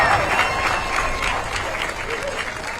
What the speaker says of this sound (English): One big applause for today's Memorial Day Parade.